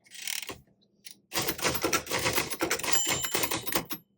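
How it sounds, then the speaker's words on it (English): Rapid, continuous typing on a Royal Futura 800 manual typewriter, dense clacking keystrokes close up after a short opening burst and pause, with no voices. "your typewriter is going to stop when you reach that margin"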